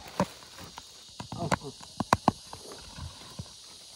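Several hoof clops from a horse carrying three sacks of coconuts ring out in an irregular walking rhythm, close by, with faint background noise and a little soft voice between steps.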